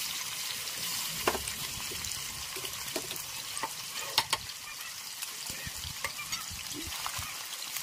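Chicken pieces fry in hot oil for chicken biryani, giving a steady, close crackling sizzle with scattered pops and a few sharper spatters throughout.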